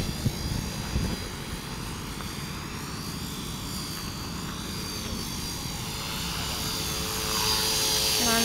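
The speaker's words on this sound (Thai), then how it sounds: "จะลงจอดแล้วเพื่อนลงมาเลยจะลงจอดที่เดิม" A small aircraft comes in to land, its engine drone steady and loud throughout, with the rotor or propeller noise building slightly toward the end.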